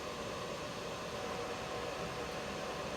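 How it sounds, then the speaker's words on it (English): Cooling fans of a Cutting Edge Power 500W solar generator's inverter run loud under a heavy load of about 300 watts, a steady, dense broadband whoosh that holds constant and close throughout, with no talk. "now the inverter fans are really going high here"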